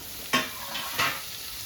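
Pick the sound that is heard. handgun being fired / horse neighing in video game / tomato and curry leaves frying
tomato and curry leaves frying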